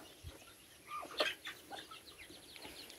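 Farm chickens cluck and chatter close by in a few short, bright bursts over a quiet yard.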